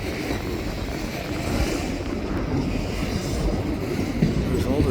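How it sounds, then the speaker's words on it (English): A train rolls past on railway tracks, a continuous loud rumble with wheel clatter and faint squeals, close by and steady throughout. "I'm more happy just to see the train."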